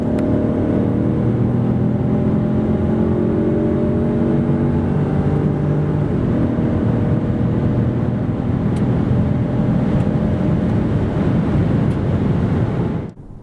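A Citroen C4 X with a 1.2 PureTech 130 hp engine accelerates from 90 to 140 km/h. Heard from inside, a steady engine drone slowly rises in pitch beneath constant road and wind roar.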